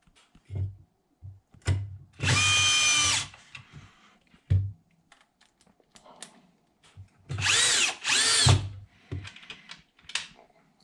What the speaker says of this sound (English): So first thing is just to put a couple screws on each side.